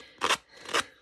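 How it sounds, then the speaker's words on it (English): Two quick crisp snips of scissors cutting through the edge of paper at a craft desk, close and fairly loud, separated by a short pause. "So I end up using my scissors, which you can do."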